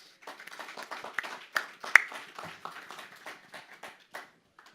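Audience applause at a mining investment conference panel in Hong Kong, a moderate spread of hand claps rising and fading over several seconds with a few sharper nearby claps.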